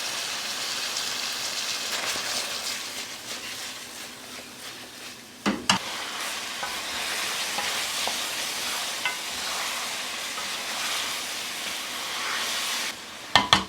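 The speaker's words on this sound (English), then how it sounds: "While this meat is cooking away" Lamb curry meat sizzles and fries steadily on high heat in a pan, a dense continuous hiss broken by a couple of sharp utensil scrapes and knocks midway and at the end.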